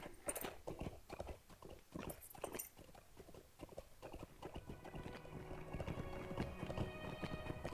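Horse hooves clip-clopping in a steady rhythm while riding up toward Weathertop in Lord of the Rings Online, close and moderately loud, with the gait blending into ambient game music and sounds in the latter half.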